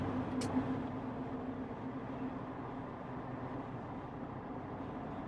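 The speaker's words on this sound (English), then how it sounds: "let's go gradually increase our speed and see how bad the wind noise gets" Steady broadband rush of wind noise inside a moving Jeep Wrangler on the road, with a constant low drone and a brief high click near the start, no voices.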